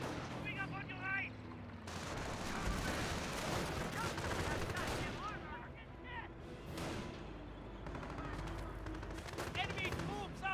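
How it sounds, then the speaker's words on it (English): Gunfire in the World War II strategy game Company of Heroes, with dense bursts of rifle and machine-gun shots and occasional heavier booms in a steady battle din, plus voice callouts in short gaps. "Enemy troops are firing on us."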